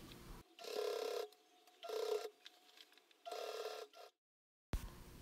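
A domestic sewing machine stitches a beach bag in three short bursts of close mechanical whirring, each about a second long, separated by brief pauses, then a silent gap before a final start; no talk.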